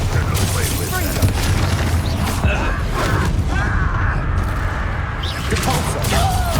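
Spell casting in Hogwarts Legacy: a dense, continuous wash of magical whooshes, rumbling booms and creaking impacts from a chained spell combo in a duel, loud throughout, with a voice talking over it.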